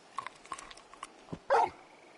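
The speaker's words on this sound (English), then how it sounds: "You're just a big puppy, aren't you?" A big dog in the video game Final Fantasy XVI gives a single short, loud bark after a few faint yips and sniffing sounds, heard close against a quiet background.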